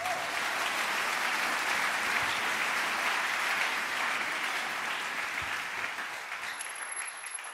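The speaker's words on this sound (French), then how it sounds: "acclame Jésus" A church congregation applauds steadily during a Sunday worship service, a dense, even wash of many clapping hands that holds for several seconds before easing slightly at the end.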